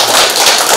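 Applause breaks out at a family clan's annual general meeting, a dense burst of many hands clapping together for under a second, loud and close with no talk over it.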